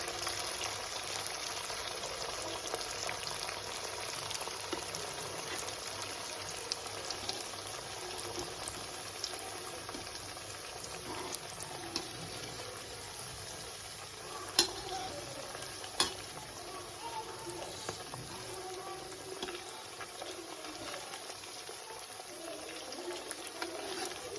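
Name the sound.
sabudana vadas deep-frying in oil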